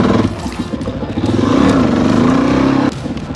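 Dirt motorcycle revving hard during a wheelie attempt on a dusty outdoor patch, the engine note climbing and wavering near and loud with clattering, then cutting off abruptly near the end.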